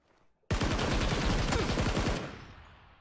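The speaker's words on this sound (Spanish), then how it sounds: "Ahora tengo que pegar los tiros." A rapid burst of gunfire in PUBG on Xbox One rattles loudly for almost two seconds, then trails off into a fading echo.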